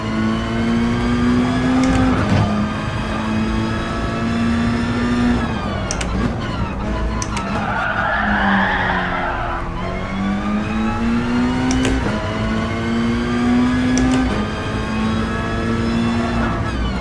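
Turbocharged race car engines in Gran Turismo Sport, loud and close, revving through repeated rising gear pulls with brief shift drops and a hissing turbo whoosh in the middle, a voice faintly underneath.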